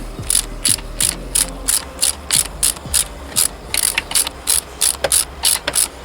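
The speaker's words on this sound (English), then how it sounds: "Alright, so 10mm socket on it" A ratchet with a 10mm socket clicks in quick repeated strokes while removing a nut on a Suzuki GSX-R motorcycle, close and crisp, about a dozen bursts with brief pauses and no talk.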